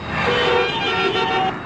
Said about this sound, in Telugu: ఇదేం ట్రాఫిక్, ఇదేం రోడ్లు